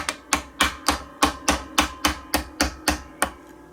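A small ratchet taps a chisel in under the nut of a Rickenbacker bass, giving eleven sharp, evenly spaced close knocks about a third of a second apart.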